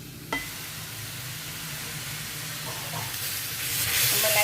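Milk goes into carrot halwa cooking in a pot, and a steady hissing sizzle follows with a low bubbling rumble under it. The sound swells brighter and louder toward the end as the stirring goes on.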